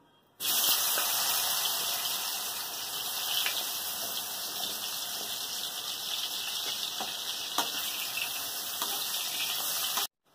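Sliced raw green bananas, coated in salt and turmeric, fry in hot white oil with a loud, steady sizzling hiss that starts abruptly and holds evenly for about ten seconds before cutting off.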